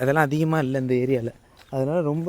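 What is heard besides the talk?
No everyday noises stand out.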